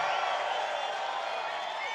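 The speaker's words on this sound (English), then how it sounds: "This is a big crowd." A large rally crowd in Butler, Pennsylvania roars and cheers in a dense, steady wash of noise for about two seconds, with voices blended into the din.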